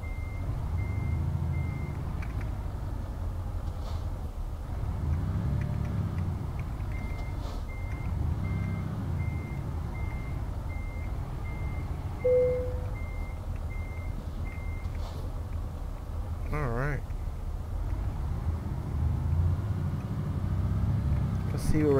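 In Euro Truck Simulator 2, a truck backs up to hook a trailer, with steady reversing beeps over a low rumbling engine. Someone talks throughout.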